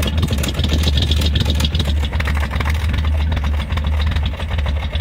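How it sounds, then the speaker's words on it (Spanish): A car exhaust rumbles steadily at low rpm, close and loud, with the engine misfiring at idle, giving an uneven pulsing beat throughout. "Y escuchen el escape."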